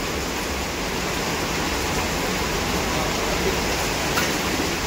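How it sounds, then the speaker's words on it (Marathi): Heavy rain in Pune falling in a constant, loud wash of noise, unbroken and even throughout, with no voices over it. "पुण्यात फुल पाऊस चालू आहे मित्रांनो"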